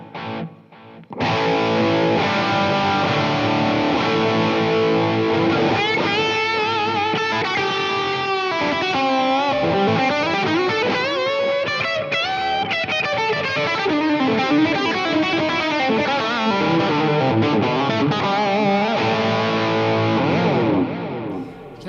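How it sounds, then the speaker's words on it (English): A distorted electric guitar played through a Helix LT delay effect plays a melodic line, its notes trailing into repeating echoes that smear together into a shimmering wash. "You can already hear how nice that delay sounds"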